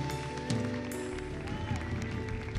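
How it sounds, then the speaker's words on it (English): A church congregation claps together in praise, a dense steady clatter of many hands with voices and music sounding along underneath. "let's give the Lord another clap offering"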